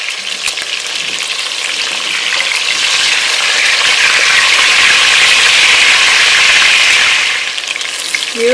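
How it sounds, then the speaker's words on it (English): Chicken gizzards frying in hot oil, a steady loud sizzle and bubbling crackle that swells in the middle and eases slightly toward the end, with no talking. "I'm going to go ahead and fry these gizzards until they're golden"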